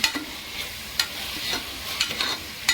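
Food being stirred and mixed in a frying pan, a soft sizzle beneath repeated sharp scrapes of a utensil against the pan at roughly half-second intervals, close up and without talk.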